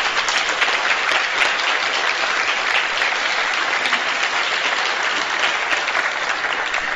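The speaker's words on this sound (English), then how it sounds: "I think we owe a big applause for Paul Wittenberger" Symposium audience applauding, a dense sustained clapping from a large crowd at a steady loud level throughout, with no pause or speech on top.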